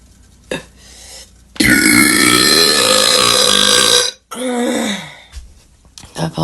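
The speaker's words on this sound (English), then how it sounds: "So I'm gonna chug this, and I'm gonna burp for y'all" A long, loud burp right after chugging a drink, stretching nearly two and a half seconds, followed by a shorter second belch and some faint throat sounds.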